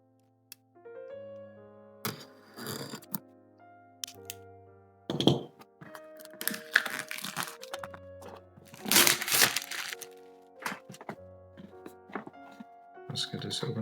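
A Monster Hunter World board game box is opened up close, with thumps, cardboard scraping and crinkling plastic wrap, while a person talks throughout.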